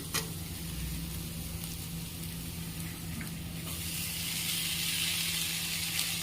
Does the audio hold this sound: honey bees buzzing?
no